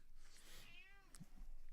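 Sage the cat gives a single drawn-out meow, rising and falling in pitch, heard fairly close against a quiet room background, followed by a faint soft bump.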